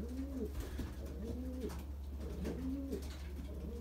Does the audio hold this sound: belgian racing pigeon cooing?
yes